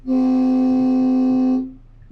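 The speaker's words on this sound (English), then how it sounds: "you can hear that it's got this beautiful sounds of a train horn" A single long, loud horn blast from a Prevost X3 coach holds a steady deep train-horn tone for about a second and a half, then cuts off and fades.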